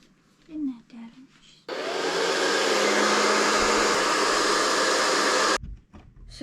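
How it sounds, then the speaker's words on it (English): Hair dryer blowing on a wet Maine Coon kitten after a bath, switched on after brief soft voices and a small cry, roaring steadily and loudly for about four seconds, then cut off. "she really didn't like the hairdryer"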